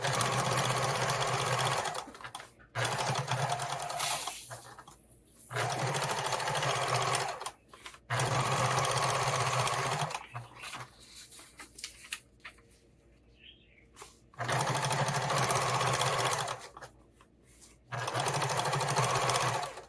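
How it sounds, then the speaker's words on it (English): A sewing machine top-stitches beside a zipper on a fabric tool storage roll, running in several steady bursts of a few seconds each with short quiet pauses between, close and clear. "I'm going to top stitch on this side of the zipper."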